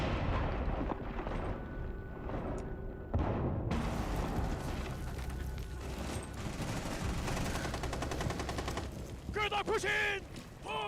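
Video game gunfire rings out as players pre-fire angles: bursts of rapid shots and blasts, with a voice talking over parts of the action.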